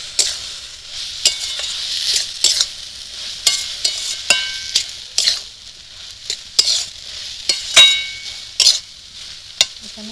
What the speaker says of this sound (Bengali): এবার একটু নাড়ানাড়ি করব।